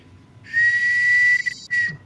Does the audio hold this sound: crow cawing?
no